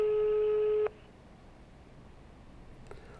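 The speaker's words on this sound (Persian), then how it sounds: "داره تلفن زنگ میزنه اما ایشون جواب نمیده" A telephone line sounds one long steady electronic tone for just under a second on an unanswered call, then goes quiet with a faint click near the end.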